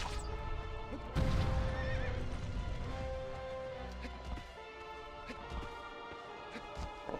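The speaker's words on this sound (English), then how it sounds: "Horse, no, please, horse." In the video game Shadow of the Colossus, a horse whinnies loudly near the start over rumbling hooves and game noise, then the hoofbeats and background sounds carry on more quietly.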